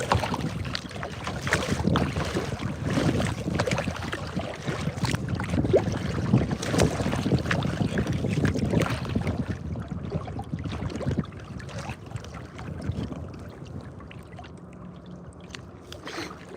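A small boat being paddled near shore in cold wind, with steady wind buffeting the microphone and water noise, loud for the first ten seconds before easing to a quieter, steadier rush.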